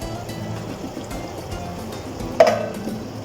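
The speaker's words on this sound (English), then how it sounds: "I'll drain that last tin of the last tin of beans." Liquid drained from a tin of beans, a soft trickling pour with a brief louder splash toward the end, close by.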